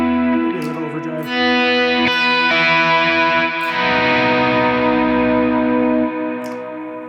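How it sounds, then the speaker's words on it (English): Overdriven electric guitar on the bridge pickup rings out in sustained, gritty chords with a bright edge and reverb tails, played loud and up close. "go to your bridge pickup and keep playing what you're doing. Maybe a little overdrive."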